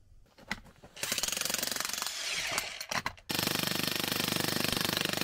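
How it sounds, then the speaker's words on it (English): A jackhammer powered by a portable power station pounds in rapid, loud bursts with a brief pause, then starts again in a steady, harsh hammering close by. "We're going to see if the GrowWatt can power the jackhammer."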